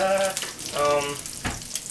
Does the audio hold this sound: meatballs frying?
yes